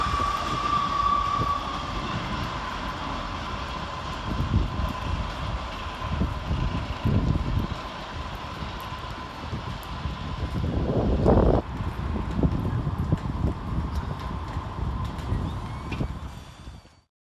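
A Northern Rail class 158 diesel unit departs Leeds station in a rainstorm, its steady engine drone and rolling rumble building under constant rain hiss, with a brief louder burst midway before the sound begins to fade.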